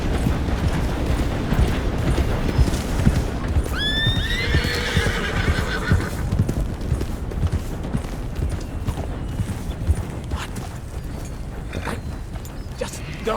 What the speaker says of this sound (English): Hey, there's a horse and a rider up there.